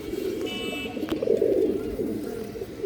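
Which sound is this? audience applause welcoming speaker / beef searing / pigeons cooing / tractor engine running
pigeons cooing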